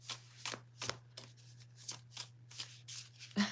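Tarot cards being shuffled by hand, a quiet series of crisp riffling bursts at a steady rhythm over a low constant hum, close and alone.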